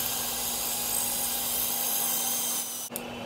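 A power drill bores holes into cement on a patio project, a steady high-pitched whine held for about three seconds before it cuts off abruptly.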